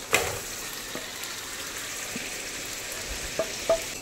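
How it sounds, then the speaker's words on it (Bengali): Marinated chicken for biryani sautéing in spice masala, a steady low hiss of frying with a couple of brief clinks near the end, quiet and close. "খুব ভালো করে চিকেনটাকে এবারে আমি কষিয়ে নেব"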